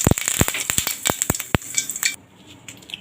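Whole cumin seeds dropped into hot oil for potato curry crackle and sizzle, with sharp clinks of a spoon against the pan up front before the frying settles into a quieter hiss.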